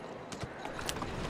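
Horse hooves clip-clop in a quick, light series of soft, faint hoofbeats in the video game Assassin's Creed Syndicate.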